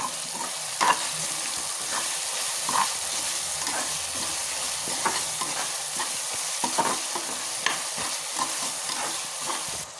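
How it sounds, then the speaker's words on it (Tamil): Tomatoes with rock salt sautéing in a pan for prawn biryani, a continuous sizzle broken by repeated spatula scrapes and light knocks against the pan, close and fairly loud, with no talking. "தக்காளி நல்லா வதங்கிட்டு இருக்கு."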